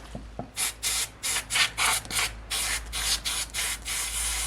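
Chainsaw carburetor being cleaned with short bursts of spray or brushing, about a dozen rhythmic hissing scrubs in quick succession, close and fairly loud with no talk.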